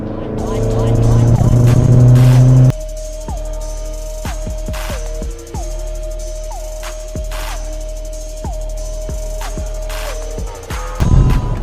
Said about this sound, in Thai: อันนี้ออกเกียร์สี่นะครับ จะเห็นว่าออกเกียร์สี่ไม่รอรอบนะครับผม